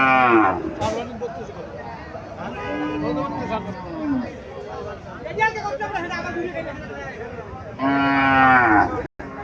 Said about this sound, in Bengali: এখানেও একটা গাভী দেখা যাচ্ছে হাড্ডিসের